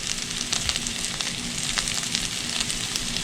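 Food sizzling steadily in a hot frying pan, a dense crackling hiss that stays loud and close throughout with small pops, no talking.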